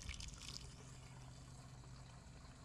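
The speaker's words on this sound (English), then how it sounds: "take a garden hose, and you can fill it up with water" A garden hose runs water into a rented lawn aerator drum through its fill opening, a faint, steady trickling and splashing pour that carries on without pause.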